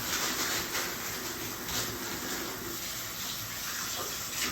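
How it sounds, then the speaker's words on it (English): Tap water runs steadily over red skin potatoes being rinsed before going into a pot, a continuous close splashing wash with no talking. "You just want to knock them off with a little bit of water"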